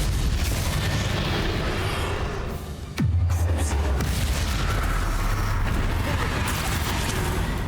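A Confringo blasting spell explodes in the Hogwarts Legacy video game with one sharp, heavy boom midway. It lands amid constant loud battle noise and rumbling.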